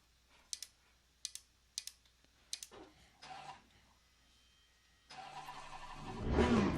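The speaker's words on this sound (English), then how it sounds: "You can stall this thing pretty easily." Race car in Assetto Corsa Competizione, with a few sharp mechanical clicks and brief cranking bursts, then the engine catching and idling low before revving up loudly at the end.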